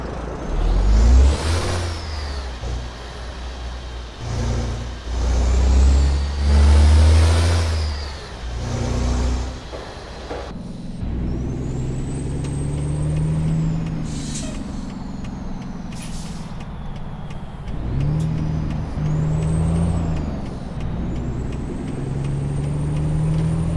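A big Caterpillar diesel truck engine in a Peterbilt 389 in a truck-driving video game rumbles and revs, with loud hissing air brake bursts, then settles into a deep steady drone as it pulls away.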